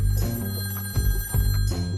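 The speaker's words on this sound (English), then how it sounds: "Right before Clifford walked out of the door, his phone rang." A telephone rings loudly and close by, with a rapid electronic trill in repeated bursts.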